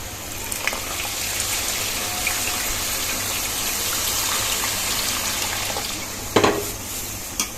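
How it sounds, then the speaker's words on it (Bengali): Water is poured into a pan of fried lentils, a steady rushing gush with bubbling sizzle that carries on evenly, ending with a couple of sharp clatters near the end. "এখন আমি দিয়ে দেব পানি, যতটুকু ডাল অতটুকু পানি।"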